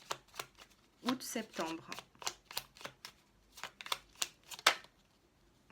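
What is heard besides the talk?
tarot cards being shuffled and drawn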